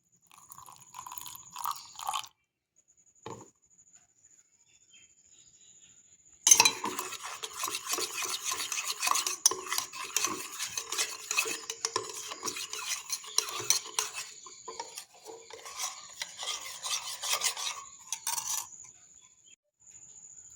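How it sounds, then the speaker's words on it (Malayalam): Spoon stirring about two spoonfuls of custard powder into a little milk in a cup or bowl, a steady run of close metallic scraping and clinking against the sides, with a few short taps before it starts. "ഒരു 2 സ്പൂൺ കസ്റ്റാർഡ് പൗഡർ, അത് കുറച്ച് പാലിലേക്ക് ഒഴിച്ച് മിക്സ് ചെയ്യാം നമുക്ക്."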